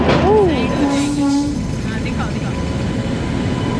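A train heard in India during a tourist rail journey through the North East, with a short rising-and-falling horn-like tone at the start, then rumbling running noise under voices.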